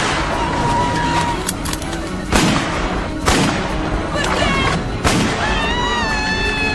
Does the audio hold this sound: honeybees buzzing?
no